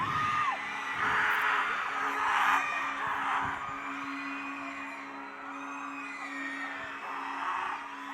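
A concert audience in Silang, Cavite shouting and screaming loudly in surges, with a performer's voice and a steady musical tone underneath.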